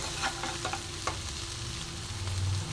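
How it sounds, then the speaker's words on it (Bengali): Spinach with coconut and bori being gently stirred in a pan, with soft sizzling and a few light scraping taps from the stirring, heard close with no talk. "খুব হালকা হালকা করে আমি নাড়ব।"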